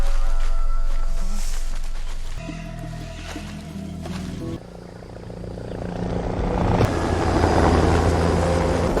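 Heavy rotor and engine drone of a helicopter, rising and falling, loud and near, with rumbling low tones throughout.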